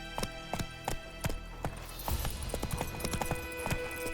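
Roach the horse gallops in The Witcher 3, a steady clip-clop of hooves that speeds from spaced beats into a faster, denser run, close and clear over a low game hum.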